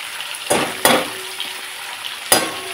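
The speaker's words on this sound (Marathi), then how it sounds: "आता आपण हे तेलात टाकूया." Ground masala of spices such as cumin hitting hot oil for a half-kilo mutton curry, a steady sizzle with a few sharp clinks of a spoon against the pan.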